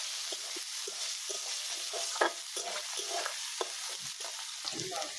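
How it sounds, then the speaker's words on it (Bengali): Onions and slit green chillies fry in hot oil under a soft, constant sizzle, broken by frequent scraping strokes of a spatula as they are stirred in the pan. "আমি এই পেঁয়াজটা আর মরিচটা একটু ভাজা ভাজা করে নেব।"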